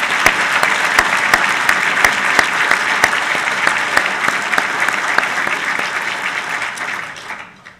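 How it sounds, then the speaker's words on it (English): An audience at a Naval War College evening event gives a loud, sustained round of applause with crisp individual claps standing out, holding steady for several seconds before quickly dying away. "Let's give him another round of applause."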